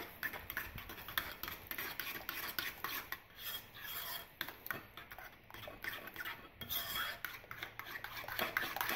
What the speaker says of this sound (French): Je mélange bien le tout comme ça.